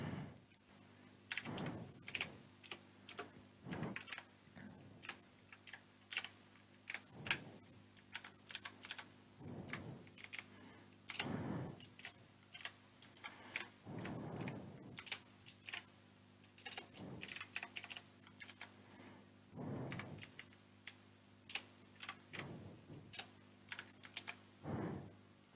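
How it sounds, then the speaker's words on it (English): JavaScript code being typed on a computer keyboard, heard as quiet bursts of key clicks separated by short pauses, close by and with no voices. "let me first write a really simple code here"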